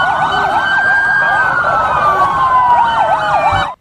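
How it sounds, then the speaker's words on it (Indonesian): A toy ambulance's electronic siren wails in a loud, steady warbling cycle close up, running continuously alone before cutting off abruptly at the end. "Ini ambulan."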